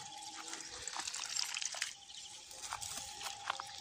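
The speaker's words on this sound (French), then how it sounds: "Bah oui, il faut arroser les petits plants." Young bean plants being watered on a hot day, a steady trickle and patter of water with scattered drips running throughout at close range, moderately quiet.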